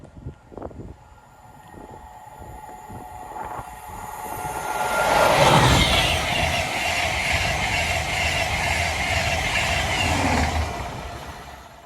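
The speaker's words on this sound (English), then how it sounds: "Intercity 225 on a Leeds to King's Cross." An Intercity 225 on a Leeds to King's Cross service passing at Tuxford, approaching from faint rumble into a loud, sustained roar and hiss of rail wagons for several seconds, with no talk.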